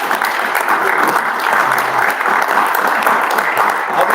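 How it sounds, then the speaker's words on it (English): Audience applause for a seed company sponsor at a mug club event, steady dense clapping from a crowd filling the room, sustained and even throughout. "just a round of applause for Brian Seed"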